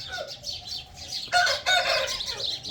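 A rooster crows nearby, a drawn-out rising call, with other birds chirping in the background.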